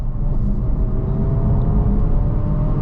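A 2023 Honda Civic Type R pulls hard on a night drive in the UK, its engine a steady, loud low rumble with broadband road and wind roar heard from inside the cabin, continuous and without speech.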